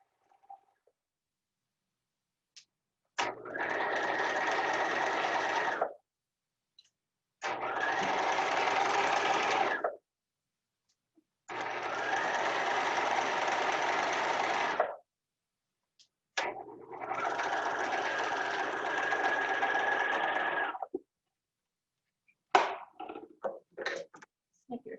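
A sewing machine stitches through a layered fabric sandwich in four steady bursts of even, rapid whirring, each lasting a few seconds with short pauses between, followed by a few brief clicks near the end.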